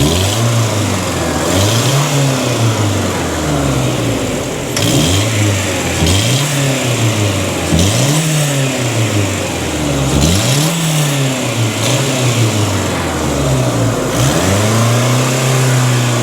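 A car engine with a low-compression misfire and a dead cylinder revs repeatedly, rising and falling in loud cycles, with a ticking, puffing exhaust leak at the catalytic converter donut gasket audible close by under the engine noise.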